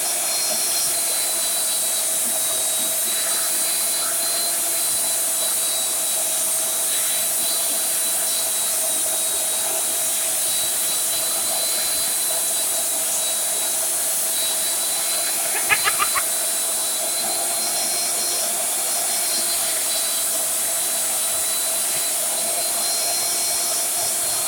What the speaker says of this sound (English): I'll respond back to you when the belt sander's not going.